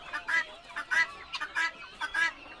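Chickens at a poultry market selling birds before Lebaran cluck in short, repeated bursts, close and clear, with no talk over them.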